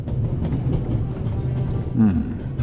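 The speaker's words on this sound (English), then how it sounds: "First, I'll stop the train" A train stops in the video game The Raven: Legacy of a Master Thief: a low steady rumble with faint clattering, then a brief metallic squeal near the end.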